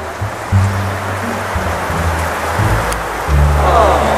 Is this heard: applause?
no